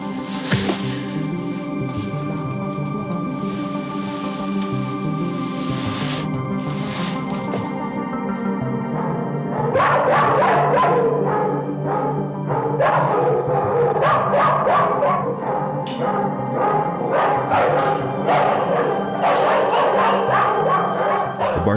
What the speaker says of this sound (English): barking of his captive dogs,